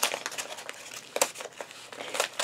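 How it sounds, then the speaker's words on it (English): A package is torn open up close: short, bursty crinkling and ripping of packaging material comes in quick uneven pulses, fairly quiet, with no talk over it. "rip it open"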